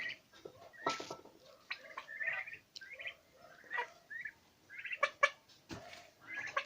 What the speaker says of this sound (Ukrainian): вперше індики у мене подають звуки